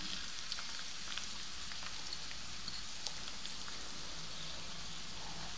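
Chopped garlic and onion frying in a generous amount of oil for a dried fish (loitta shutki) dish, giving a steady, even sizzle with faint crackles throughout and no talking.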